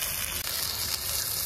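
Chopped onion dropped into hot oil in a wok with bay leaf and dried red chilli: a loud, close, continuous hissing sizzle that holds steady throughout with no voices.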